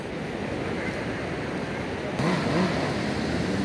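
Sea surf washing steadily at Gravatá beach in Navegantes, Santa Catarina, a continuous broadband roar with wind buffeting the microphone, swelling a little louder partway through.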